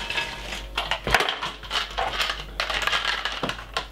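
Ice cubes dropped into a cup of juice with ginger pieces, a rattling run of clinks and knocks close by, with several sharp hits in quick succession and no talk.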